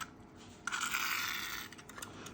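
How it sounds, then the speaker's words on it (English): Aerosol lubricant hisses into a SIG MCX Rattler LT rifle upper receiver in one steady burst of about a second and a half, close and moderately loud, with a short tail and no talking. "Go ahead and spray some back there."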